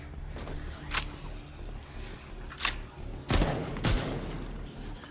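Gunfire in The Walking Dead Onslaught video game: a few separate sharp shots spread across the moment, with two close together near the end, over a steady low game background.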